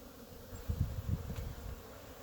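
Honey bees from a healthy colony buzzing around the hive entrance outdoors, a faint, steady hum with a few slightly louder swells as insects pass nearby.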